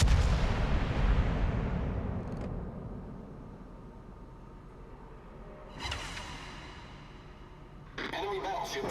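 Heavy battleship gun salvos in World of Warships, a deep booming blast that rumbles and fades, followed by further loud firing bursts, with a player's voice talking over the game sounds.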